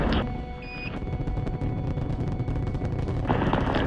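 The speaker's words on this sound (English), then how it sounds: "Liftoff on Apollo 11." The Apollo 11 rocket lifts off with a loud, continuous broadband roar and rumble that fills the clip, with crackling bursts throughout and a faint thin tone briefly above.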